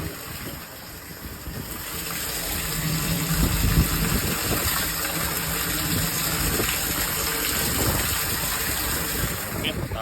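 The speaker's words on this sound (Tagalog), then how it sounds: "nagre-refill ako ng tubig para lang linisin, window ng tangke kasi nilinis" Water rushes steadily into a water tank being refilled for cleaning, a continuous loud gushing wash that holds for the whole stretch with a faint low rumble beneath.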